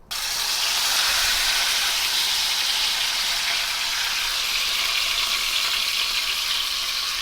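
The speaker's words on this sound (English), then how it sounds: "So I'm going to sear it for like 2-3 minutes." A bone-in prime rib roast searing in a hot pizza oven makes a loud, steady broad hiss and sizzle that starts abruptly and holds evenly throughout, with no voices.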